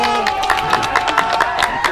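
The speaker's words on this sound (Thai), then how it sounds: "ปรบมือครับ" A crowd applauds at an outing in Isan, Thailand, with steady, closely spaced claps and cheering under a continuous murmur and a tonal background.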